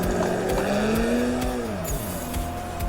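A drift car in the Assetto Corsa racing simulator bogs mid-slide. The loud, steady engine note sags and drops in pitch over tire squeal, then settles lower.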